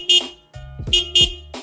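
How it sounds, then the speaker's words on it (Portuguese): Several short, sharp car horn honks in quick succession, mixed with low rumbling thumps, loud and close. "Quero ver se eu encontro uma buzina"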